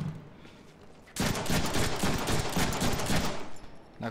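In the video game Deadpool, after a quiet second, a loud burst of rapid gunfire erupts and continues for about three seconds, dense and crackling, with no voices.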